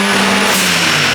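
A turbocharged Honda K-series engine in an S14 chassis revving hard on a dyno, a loud, steady high-load roar sustained throughout the short moment.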